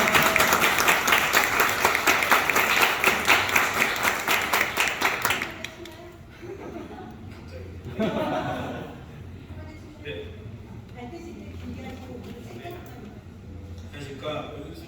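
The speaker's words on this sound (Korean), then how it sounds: "여러분들 정말 힘차게 우리 이 새 청년들에게 한번 박수 한번 주시기 바랍니다." A crowd at a youth committee launch event claps hard for the new youth committee chair, dense loud applause for several seconds that stops abruptly, then scattered chuckles, murmurs and a few voices in a quieter room.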